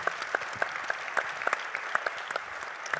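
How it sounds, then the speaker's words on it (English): A small audience at a Connecticut Sun basketball town hall gives light, scattered applause for a staff member named Amber. The claps are soft and somewhat distant, with individual hands standing out. "Big round of applause for Amber"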